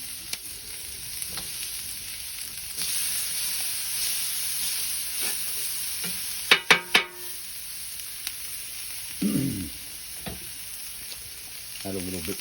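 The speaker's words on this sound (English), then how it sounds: "stir frying is meant to be a pretty quick process" Beef, prawns and vegetables stir frying on a Weber barbecue, with a continuous sizzle, a few sharp clanks of utensils near the middle, and some scraping and stirring noises toward the end.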